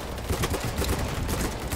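Burst gunfire in the shooter game BattleBit Remastered, a dense run of rapid, loud shots overlapping one another throughout, with no voice over it.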